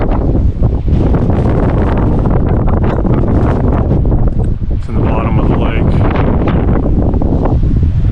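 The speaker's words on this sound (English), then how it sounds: "30 to 50 mile an hour winds. Total white caps." Strong 30 to 50 mph wind blasting across a whitecapped lake, a loud, constant roar buffeting the microphone with churning water underneath, while someone speaks briefly over it.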